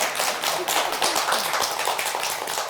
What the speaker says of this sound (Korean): 박수 한번 주이소.